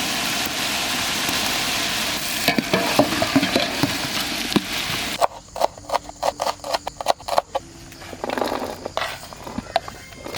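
Chopped onion with ginger garlic paste stir-frying for village-style Maggi masala, a loud continuous sizzle that breaks into irregular scraping and stirring bursts, with the frying hiss fading and returning.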